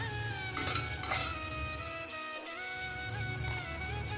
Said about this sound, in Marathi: खसखस छान अशी थोडीशी हलकीशी परतून घ्यायची